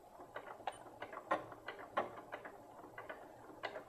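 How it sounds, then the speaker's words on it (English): A home sewing machine stitches forward through fabric, giving quiet, irregular mechanical ticks and clicks from the needle and feed, close up, with no talking. "I'm going to sew forward a few stitches and then use my back stitch button"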